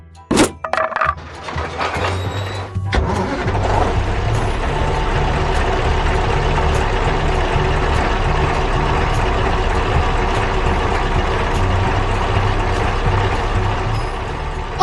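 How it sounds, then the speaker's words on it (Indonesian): A truck near a railway line drives off at speed, its loud, steady engine rumble and road noise filling the whole stretch after a few sharp knocks and cracks at the start. "Truknya mulai melaju kencang."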